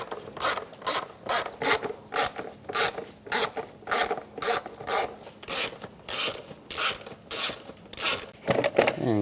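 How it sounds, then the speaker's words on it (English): A ratchet wrench with a socket backing out the airbox screws on a 2007-2013 Mini Cooper, close and steady, its clicking ratchet strokes repeating in a regular rhythm of about two per second throughout. "socket, I'm going to take the screws out of the airbox"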